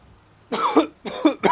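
Three sharp, close coughs come in quick succession from one person, each a loud, harsh burst with a short gap between, against a quiet background.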